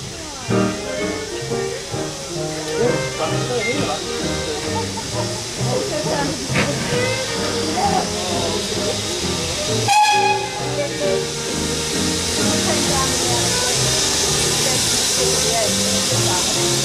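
A steam train rumbles and hisses amid a busy, noisy crowd at a heritage railway gala, with a sharp burst of steam partway through and people chattering throughout.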